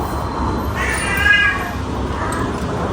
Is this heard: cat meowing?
yes